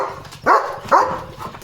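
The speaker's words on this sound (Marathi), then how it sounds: "गाडीला भुंकतोय लिओ." A German Shepherd barks at a parked car, two loud close barks about half a second apart followed by a softer third yelp, with no talking.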